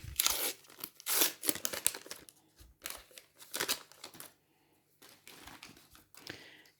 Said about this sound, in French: on va s'ouvrir le dernier paquet